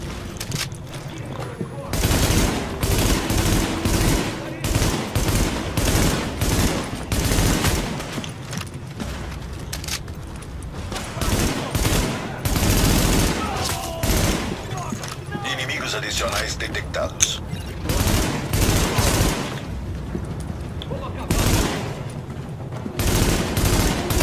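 Gunfire in the video game The Division, a medical wing firefight: long, loud bursts of automatic rifle fire repeat in rapid volleys with short pauses, while a player speaks in Portuguese over the shooting.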